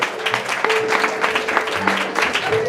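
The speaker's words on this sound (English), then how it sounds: "everyone should give yourselves one more very hearty round of applause" A wedding party crowd claps in steady, dense applause throughout, with a few voices faintly audible beneath.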